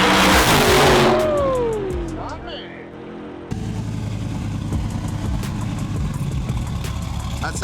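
A supercharged Dodge Viper engine roars loudly close by, then its revs fall away with a tire squeal before settling into a rough, rumbling idle, with voices faintly underneath.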